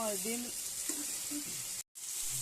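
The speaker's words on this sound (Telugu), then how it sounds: "బీరకాయలు టమాటాలు అయితే మంచిగా ఫ్రై అవుతున్నాయి చూడండి" Ridge gourd pieces and tomatoes sizzling in hot oil, a continuous close frying hiss with brief stirring sounds, cut by a short gap of silence near the end.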